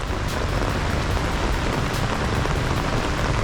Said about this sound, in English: the rains are still pounding and pounding.